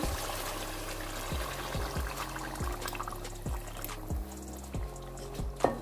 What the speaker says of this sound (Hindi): ये तो व्यूअर्स अब हम इसके अंदर पानी ऐड करेंगे।